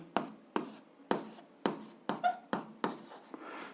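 Pen strokes on paper during a 7th-grade algebra exercise, a steady run of short scratchy marks in quick succession, close and fairly quiet, with no voices.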